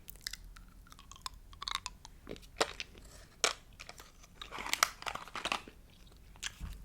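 Gum is chewed right at the microphone in a quiet ASMR setting: a run of wet, crunchy, irregular chews and mouth clicks, with no talking.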